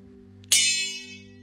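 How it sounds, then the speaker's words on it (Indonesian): A canang, a small gong-like instrument, is struck once, giving a bright metallic clang that rings on and fades slowly over a steady low hum, with no one speaking. "Canang itu seperti gong."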